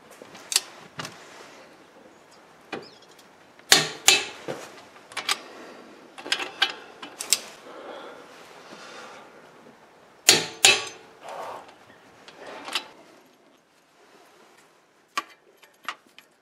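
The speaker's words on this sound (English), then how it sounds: "finally torque the bolts to 84 newton meters, which is 62 foot-pounds." Sharp, isolated clicks from a torque wrench tightening the brake caliper bolts on a 2012 Porsche 911 Carrera (997.2), arriving in irregular bursts and single ticks with quiet gaps between, close and fairly loud in an otherwise quiet garage.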